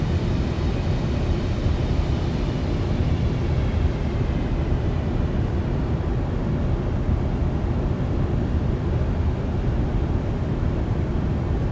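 A Boeing 747's jet engines roar steadily in a flight simulator during takeoff, a constant broadband rumble with a faint high whine and no voices over it.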